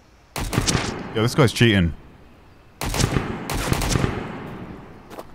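Bursts of gunfire from enemies in a video game, two loud clusters of rapid shots separated by a pause, with someone talking over them.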